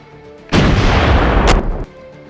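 A 155 mm artillery shell fired or exploding: a single loud, heavy boom followed by a sustained rumbling roar lasting about a second before cutting off.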